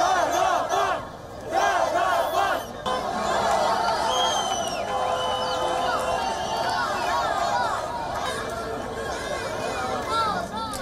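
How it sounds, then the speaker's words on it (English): Crowds in the streets of Baku wave flags and cheer a military gain, a loud, dense mass of shouting and chanting voices with whistles and overlapping calls, sustained throughout. "People took to the streets in the Azeri capital of Baku on Saturday to celebrate the army's gain over Madagis."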